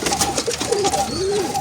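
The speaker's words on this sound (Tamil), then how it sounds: "என்ன சின்ன குட்டி புறாவில்லோ." Baby pigeons coo in soft, rolling, wavering tones, repeating over a steady background hiss at close range.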